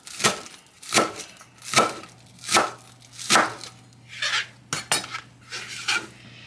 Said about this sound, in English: So I'm going to go ahead and chop some of those.